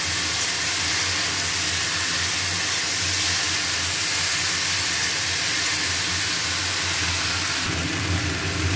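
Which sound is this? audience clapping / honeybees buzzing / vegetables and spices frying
vegetables and spices frying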